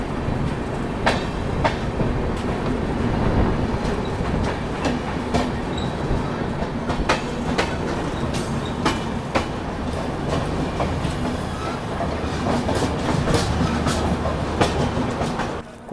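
The Akal Takht Express runs steadily on the rails, a continuous close rumble with rhythmic clickety-clack beats from the wheels passing over joints and faint squeals throughout.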